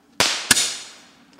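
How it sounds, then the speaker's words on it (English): A 10-ball starlight candle firework shoots two sharp, loud bangs about a third of a second apart, each trailing off into a fading hiss. "A 10-ball starlight candle."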